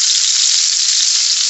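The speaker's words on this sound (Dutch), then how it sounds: "Ja, lekker een beetje bakken." Fried eggs sizzling in a pan, a steady, loud, continuous hiss of frying fat with no talk over it.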